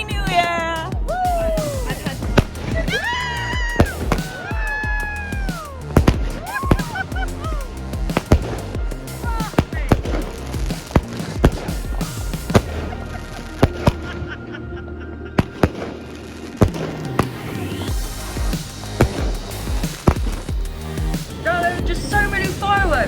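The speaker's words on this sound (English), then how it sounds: "so many fireworks, like as far as the eye can see in every direction" New Year fireworks burst and crackle continuously for over twenty seconds, loud, spread far and wide, with sharp repeated bangs under rising whistles and honking sounds, while people talk in the background.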